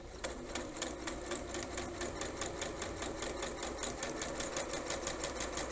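Sewing machine stitching bias binding, a fast even rhythmic clatter of needle strokes, close and steady throughout with no pauses.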